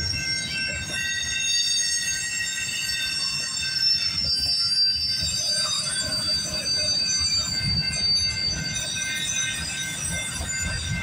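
CPKC freight train 231 with a BNSF locomotive rumbles steadily past at Guelph Line in Campbellville, heavy low clatter of wheels and a high metallic squeal ringing over it the whole time.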